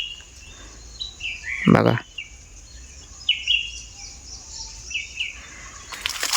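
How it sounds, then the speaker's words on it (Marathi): Birds calling around a flowering kate savar (silk cotton) tree: repeated high chirps and whistled calls, some near and some farther off, with a brief wing flutter and a short spoken word in the middle. "आजूबाजू तुमका आवाज येत असतो पक्ष्यांचो"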